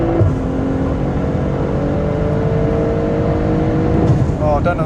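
BMW M340i G20 accelerating hard on the drag strip at Santa Pod, a loud, steady engine roar with rising tones that holds for the whole stretch, ending in a brief change near the end.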